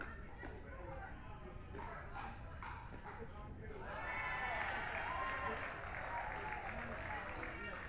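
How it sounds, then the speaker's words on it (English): Crowd at a pickleball match in Seattle applauding, scattered clapping building into a broader wash of cheering and applause, with a commentator talking over it. "Seattle crowd likes it."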